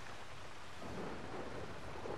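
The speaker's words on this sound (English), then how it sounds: "We don't want to be out in the rain." Steady rain and a low rumble of thunder in the video game GTA 5, a quiet, even wash of downpour with the thunder swelling midway, no voices.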